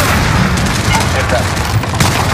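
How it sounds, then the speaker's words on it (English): Explosive military combat din from Call of Duty Modern Warfare as a Hellfire missile strikes a building, a dense, loud wall of blasts and rumbling gunfire, with voices talking over it. "Garrick, put a hellfire on that building"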